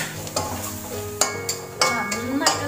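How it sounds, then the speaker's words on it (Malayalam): Chilli and coriander powder masala sautés in a pan for a mushroom matar curry, with a low sizzle and several sharp spoon scrapes and clinks against the pan, close up, no talking. "നന്നായിട്ടൊന്ന് വഴറ്റണം"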